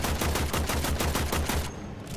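Rapid automatic gunfire in the co-op shooter Warframe, a fast regular burst of loud shots for most of the stretch, then cutting off abruptly into quiet.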